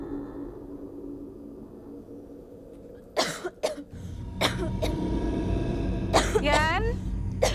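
Several sharp coughs and a throat clear burst out close by around the middle of the stretch, standing out against a low background hum, in an Indonesian mystery drama scene.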